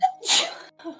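A single sharp sneeze, close and fairly loud: a quick intake, an explosive burst, then a short trailing breath.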